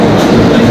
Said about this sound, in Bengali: ট্রেন থেকে নেমেই আবার একটা ট্রেন পেয়ে গেলাম